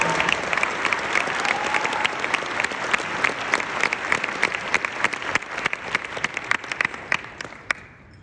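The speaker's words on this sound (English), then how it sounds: "So please join me in a round of applause for a partnership that's building brighter futures." Dense, loud audience applause fills an award ceremony honoring a partnership with a Spirit Award, many hands clapping steadily before tapering off abruptly at the end.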